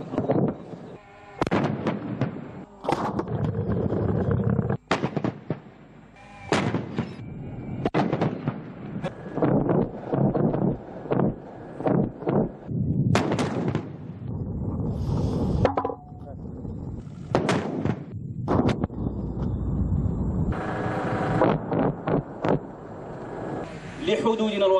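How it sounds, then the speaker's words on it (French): Live-ammunition military tactical exercise with repeated sharp weapons fire, dense irregular cracks and bangs of varying loudness throughout, heard over an ongoing voice speaking. "Cet exercice tactique avec munitions réelles vise à mettre à l'épreuve l'aptitude au combat des unités de ce secteur opérationnel"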